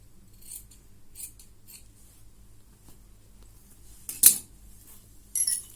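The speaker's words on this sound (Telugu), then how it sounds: "ఈ క్రాస్ బెల్ట్ వచ్చేసి ఇది కూడా చాలా ఈజీగా కట్ చేస్తున్నాం చూడండి" Scissors cutting blouse cross-belt fabric: faint, crisp snips and rustles of cloth, with one louder sharp metallic snap near the end, close and alone without talking.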